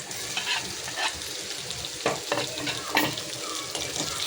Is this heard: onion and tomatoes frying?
yes